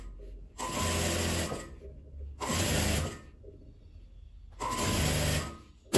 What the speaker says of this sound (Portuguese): E vem costurando.